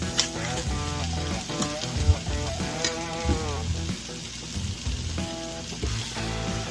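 Hamburger meat frying in a little oil alongside taco shells in a pan, a steady close sizzle with occasional pops and clinks, mixed with background music.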